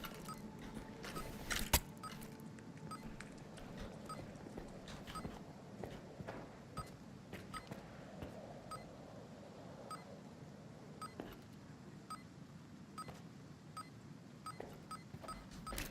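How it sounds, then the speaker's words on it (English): Repeated electronic beeping from a collar in a video game, sounding in a steady pulsing rhythm over low game ambience with occasional clanks and footstep-like clicks. "Oh, it's the collar thing. It's making a noise for me to find it."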